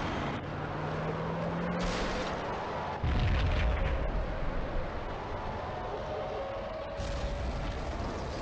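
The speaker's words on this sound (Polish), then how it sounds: "W bliskim budynku wybuchła kolejna bomba." A bomb blows up in a nearby building in the Max Payne shooter game, a deep roaring blast with rumbling low end that swells about three seconds in over steady loud game ambience.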